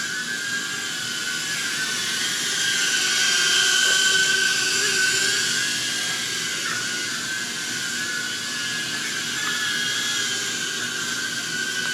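An Eachine E017 toy quadcopter drone hovers on its own, its small propellers giving a steady, high-pitched whine that swells slightly in the middle and holds constant throughout.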